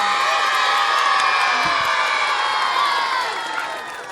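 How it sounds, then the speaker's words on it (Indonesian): Children at a singing contest clap, cheer and shout together as a lively crowd, loud and sustained, with whoops mixed in and the noise easing slightly near the end. "Yang merasa Kevin bagus tepuk tangan atau teriak"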